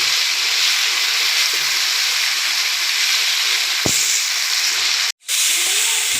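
Mutton liver (kaleji) sizzles in masala in a pan, a constant loud hiss of frying with one short knock midway and a momentary drop to silence near the end.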